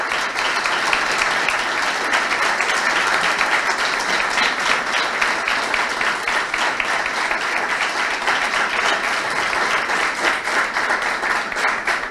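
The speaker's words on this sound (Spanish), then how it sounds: "yo la voy a hacer parar ahora y quiero que la aplaudan" An audience applauds steadily and loudly throughout at the launch of a national sports games event in Uruguay, honouring a young athlete, with dense clapping and no pauses.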